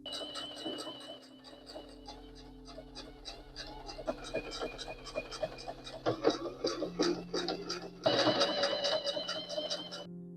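Sewing machine stitching with no thread while a custom chair cushion cover is made, its rapid rhythmic needle clatter starting and stopping in bursts, close and fairly loud.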